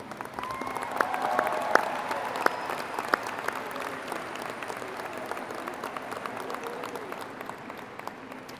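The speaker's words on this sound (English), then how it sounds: "can we give a big round of applause for our Cougars Gone Wired robotics team?" A graduation crowd at a high school ceremony applauds the robotics team with sustained, loud clapping, sharp individual claps and a few whoops popping out of the dense wash before it slowly thins.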